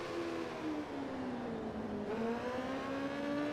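A motorcycle engine in MotoGP 15 holds a steady, slowly rising drone as the bike accelerates through a long right-hand corner at Catalunya, loud and continuous with no one talking.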